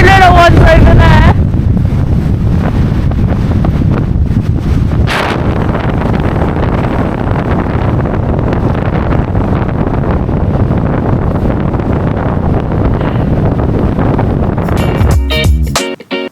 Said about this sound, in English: Supposedly, just how windy it is.